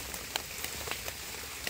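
Rain falls steadily in a forest at Nong Mek while mushrooms are gathered, a soft continuous hiss with scattered nearby drops tapping on leaves and surfaces.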